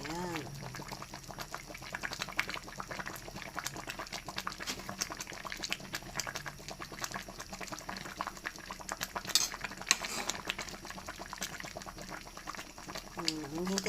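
Tilapia simmers in coconut milk in a pan, giving a constant close bubbling with small pops and an occasional utensil clink, while someone talks over it.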